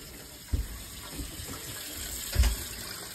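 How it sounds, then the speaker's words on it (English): Hot water taps running in a caravan, a faint soft stream of water with a couple of brief louder splashes or knocks. "I've got the hot water taps turned on"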